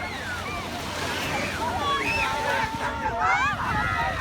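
Steady surf washing onto a city beach in Georgetown, Guyana on a Sunday morning, a continuous close roar of breaking waves with wind, while a person talks over it.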